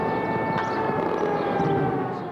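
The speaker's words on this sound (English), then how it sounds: "the sound of air raid sirens and anti-aircraft fire pierced the early morning silence" A steady, wailing air raid siren drones without a break in early-morning Baghdad at the start of the 2003 Iraq war, loud and slightly distant, with a low rumbling background beneath it.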